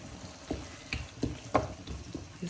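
Ground spices, among them garam masala, coriander powder and cumin powder, fry in a pan for chicken keema with capsicum, giving a low sizzle broken by a few soft stirring scrapes.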